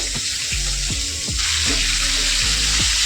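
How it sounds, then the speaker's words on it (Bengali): Pieces of rohu fish fry in hot oil, a loud continuous crackling sizzle over which a series of evenly spaced low knocks and scrapes sound from a spatula turning the fish, close and without talk. "মাছগুলোকে একটু কড়া করে মাছগুলো ভাজবো।"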